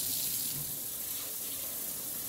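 Tap water runs in a steady, hissing stream onto scrubbed rice in a sink, constant and close for the whole stretch with no talk.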